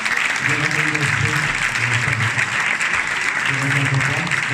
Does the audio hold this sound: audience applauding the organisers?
yes